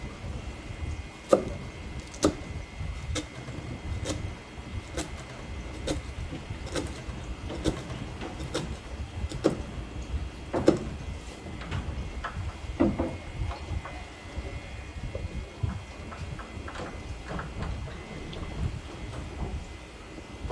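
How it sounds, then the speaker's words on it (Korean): Knife thinly slicing gizzard shad (jeoneo) on a board, a steady run of sharp close taps, one cut after another at a brisk even rhythm, with faint background noise. "최대한 얇게 해서 이렇게 썰어줍니다"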